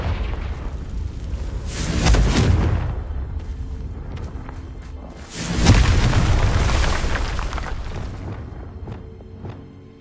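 Two loud explosive booms roughly three seconds apart, each swelling and rolling off slowly, from fire-spell blasts cast in the Hogwarts Legacy video game, with no talk over them.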